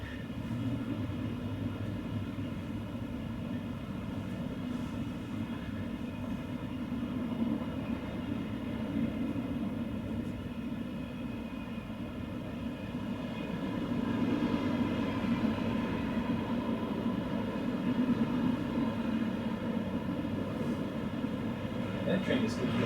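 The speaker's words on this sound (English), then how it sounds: "That train is good. Yeah, it's a freight." A freight train passes at a distance, a long low rumble and rolling drone that swells slightly midway, heard under intermittent conversation.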